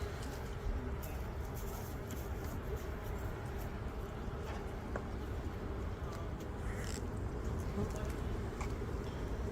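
Honey bees hum around an open beehive, a dense, steady drone close by that never lets up, with faint bird coos and brief sounds of handling in the distance.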